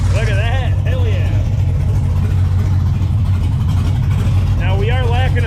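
A Ford Crown Victoria with a swapped-in LS V8 idles with a loud, steady low rumble, and voices talk briefly over the engine near the start and again at the end.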